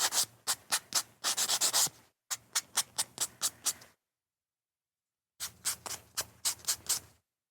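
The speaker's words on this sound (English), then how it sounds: "So we'll use our sander a little so we can make sure we get all of that off." A sander works the edge of a handmade paper Thanksgiving place card tag, giving quick rhythmic rasping strokes in three close runs separated by a brief pause and a longer silence.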